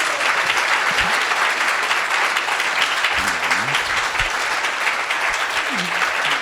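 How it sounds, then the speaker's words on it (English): An audience applauds a speaker named Siddhanta Prabhu at a talk of memories of Srila Prabhupada, a steady, dense wash of clapping throughout with a few faint voices underneath. "please give a warm round of applause for Siddhanta Prabhu"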